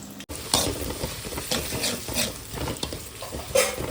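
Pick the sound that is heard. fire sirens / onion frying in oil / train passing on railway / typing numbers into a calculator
onion frying in oil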